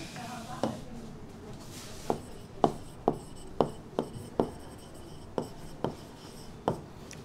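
Chalk or marker tapping and scraping on a classroom board as a teacher writes physics equations, a run of about a dozen short, crisp strokes at an uneven pace, close and fairly loud, with a voice in between.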